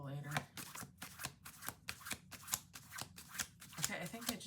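A deck of playing cards is riffle-shuffled in quick repeated ripples at close range, with light handling noise between the riffles.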